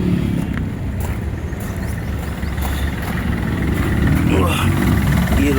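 A used car's engine idles with a steady low hum while its air conditioning runs, with someone talking over it close by.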